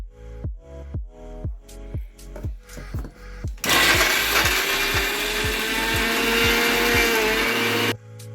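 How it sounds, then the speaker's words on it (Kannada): A kitchen mixer grinder jar with roasted gram, peanuts, cardamom and jaggery first knocks in a steady run of rhythmic thuds, then roars into a loud, continuous whirring grind for several seconds before cutting off, with no talking. "ಮಿಕ್ಸಿ ಜಾರಲ್ಲಿ ಉರಿಗಡಲೆ, ರೋಸ್ಟ್ ಮಾಡಿಟ್ಕೊಂಡಿರೋ ಕಡಲೆ ಬೀಜ, ಇಲಾಚಿ, ಲಾಸ್ಟಲ್ಲಿ ಬೆಲ್ಲ ಹಾಕ್ಕೊಂಡು ಎಲ್ಲ ಗ್ರೈಂಡ್ ಮಾಡ್ಕೋಬೇಕು"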